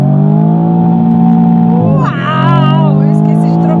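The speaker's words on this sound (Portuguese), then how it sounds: "Eu esqueci de trocar a marcha, Michele." A 2021 Jaguar F-Type convertible engine holds a loud, steady drone while being revved high in gear, its pitch dipping and then climbing sharply, with a voice briefly audible over it.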